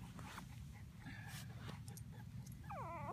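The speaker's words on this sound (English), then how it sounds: "So there's the five puppies." Three-week-old puppies in a litter of five whimpering softly, with thin high yips and rising whines over a low steady background hum, fairly close.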